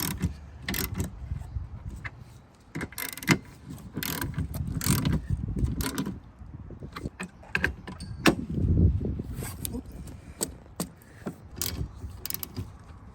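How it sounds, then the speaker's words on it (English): Ratchet with a 14 mm socket snugging spark plugs on a 2010–2015 Toyota Prius, giving bursts of close, crisp clicking with pauses and some handling noise between strokes. "We're going to go ahead and snug these up with your 14."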